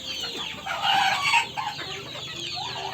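European silkie and local desi chickens, about a month old, cluck and squawk close by in a flock, with a brief louder burst in the middle over steady farmyard noise.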